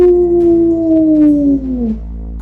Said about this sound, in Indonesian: telinganya menangkap suara lolongan serigala dari kejauhan